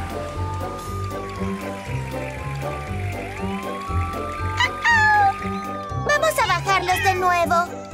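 A cartoon kitten stuck up a tree mews several times in high, falling cries, mostly toward the end, over steady background music.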